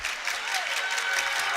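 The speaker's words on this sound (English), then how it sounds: "Trojans student section clapping vigorously" Student section of the Petaluma Trojans clapping vigorously in a high school gym during a varsity boys basketball game, a dense, steady wash of applause with no break across the short stretch.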